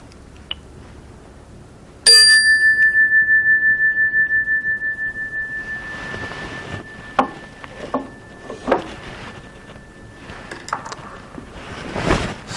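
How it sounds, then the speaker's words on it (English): A meditation bell is struck once, and its clear ringing tone hangs and slowly fades over several seconds, followed by soft rustling and small movements in a quiet room. "opening your eyes to the sound of the bell"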